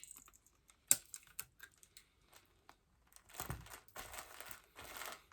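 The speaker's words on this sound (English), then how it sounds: "then we're going to stick it down with a little bit of tape" Plastic mailer bag being folded and taped shut, with crinkling handling noises, a sharp snap of tape near one second, and rustling bursts toward the end, close and quiet.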